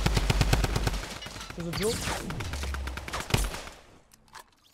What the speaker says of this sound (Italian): Spam col Tommy Gun in 4 e GG.